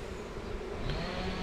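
Honeybees hum around beehive frames while new wax is being added, a dense steady buzz close by with no talking.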